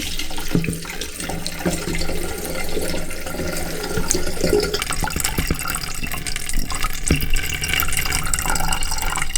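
Beer wort pours steadily into a Pinter brewing container, a continuous close splashing and gurgling that runs the whole time without pause or speech.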